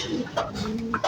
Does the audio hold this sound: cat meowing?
no